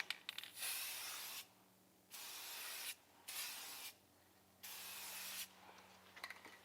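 Aerosol spray paint applied to the brake caliper of a BMW Z4 35is E89 roadster, four close hissing bursts of about a second each separated by short quiet gaps.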